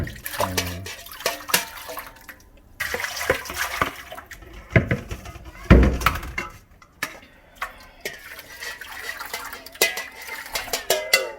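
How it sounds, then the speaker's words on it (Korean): Acorn jelly is stirred in a pot over heat, a spoon scraping along the bottom in irregular bursts of scraping and clinking with quieter pauses between strokes. "불에서 계속 이렇게 한 방향으로 바닥까지 긁어줍니다. 바닥까지 저어줘야 이게 눌지 않는 거죠."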